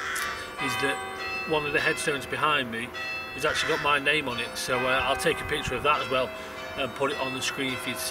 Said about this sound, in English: you can hear the church bells going